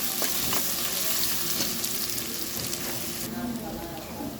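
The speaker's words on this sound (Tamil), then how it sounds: "வெங்காயம், பச்சை மிளகா நல்லா வதங்கட்டும்." Onions and green chillies sauté in a hot pan with a steady, dense sizzle and frying crackle throughout, close and continuous.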